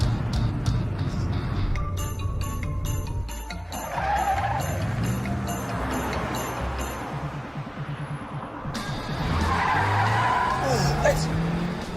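A car skids with screeching, squealing tires, sustained harsh screech over engine roar that fades and then surges again, with voices talking over parts of it.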